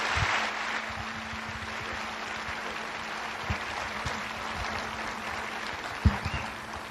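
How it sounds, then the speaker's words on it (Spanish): Audience at a conference on Eucharistic miracles in Mexico applauding to welcome a speaker; a steady, moderate round of clapping fills the room, with a few sharper claps standing out. "un gran aplauso para recibirlo"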